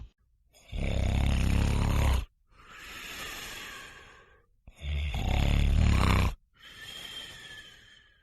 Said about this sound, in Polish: Zasnął w łóżku babci, chrapie z całej siły.